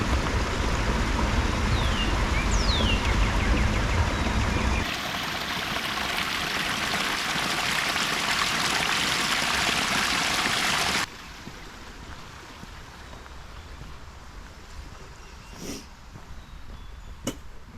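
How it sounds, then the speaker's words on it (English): Sangamon River flowing beside a wooded hiking trail, a steady broadband rush of moving water that shifts in level partway through and grows quieter toward the end, with a couple of faint knocks near the close. "So this over here is the river, Sangamon River."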